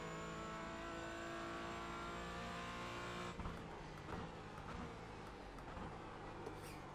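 A Michelin Pilot Challenge race car at Sebring in the iRacing game holds a steady, loud engine drone that cuts to lower, rougher revving and downshifts partway through, with no talk over it.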